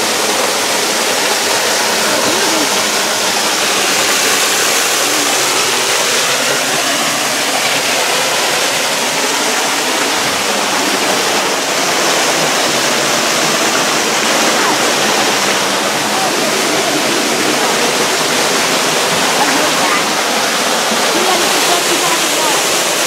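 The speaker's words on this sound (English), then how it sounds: "Inside the waterfall" A waterfall roars from right behind the falling water, a dense, loud, unbroken rush that completely fills the space without letting up.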